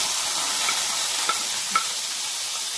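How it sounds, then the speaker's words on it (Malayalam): Sliced onions sautéing in a pan for kothu chapathi, giving a steady broadband sizzle with a few faint scrape clicks from stirring, close and continuous with no talking. "സവാള ഇട്ട് നമുക്ക് വഴറ്റാം"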